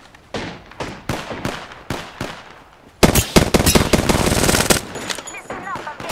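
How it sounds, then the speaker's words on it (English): Video game gunfire: several separate bursts of shots in the first half, then one sustained, dense barrage of loud automatic fire that tails off into scattered shots and game sound effects. "Listen up, I'm getting shot at."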